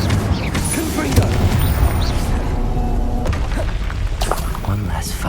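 Bombarda blasting spell in the Hogwarts Legacy video game: dense booming explosions and thuds amid continuous combat clatter and shouted spell voices, loud and sustained throughout.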